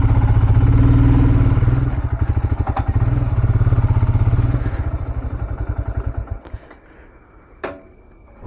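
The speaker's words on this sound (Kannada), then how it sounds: "ನಾನು ಗಾಡಿ ಇಲ್ಲೇ ಸೈಡಿಗೆ ಹಾಕಿ ಹೋಗ್ತೇನೆ" A motorcycle pulled over at the roadside, its engine putting loudly up close, then sputtering and cutting out, followed by quiet and a couple of thumps and clicks.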